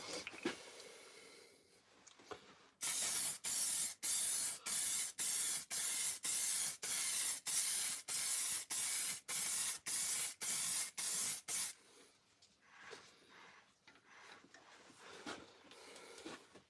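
An aerosol spray can lays another coat of finish on a wood turning: about fourteen short, loud hissing bursts in a steady rhythm, with quieter workshop rustling before and after.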